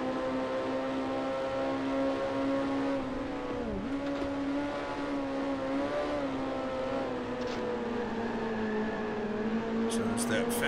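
A race car engine drones steadily in Grand Prix Legends, its pitch sliding down and back up as it downshifts, heard continuously at moderate level with a voice talking faintly over it.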